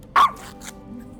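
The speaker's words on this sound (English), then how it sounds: "she's barking at the chat overlay" A dog gives a single sharp, close bark followed by a couple of softer huffs over a quiet indoor background.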